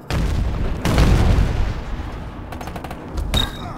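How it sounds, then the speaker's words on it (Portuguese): A grenade goes off in the Ballistic Overkill shooter game: a loud, booming blast followed by a rumbling tail, then a second sharp burst near the end, with no talking. "Caramba, ah, foi granada, né?"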